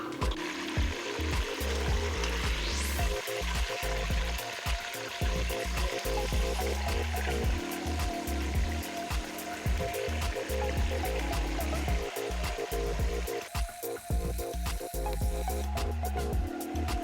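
Pork carnitas pieces fry in lard inside an Instant Pot, giving a continuous close sizzle dotted with sharp crackles and pops throughout.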